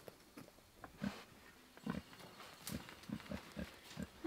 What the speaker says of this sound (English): Hi, oinkers. Hi, little pig.